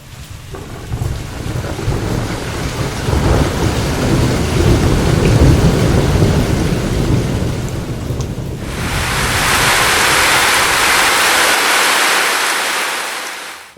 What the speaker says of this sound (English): It is springtime in Oklahoma, so it's raining outside.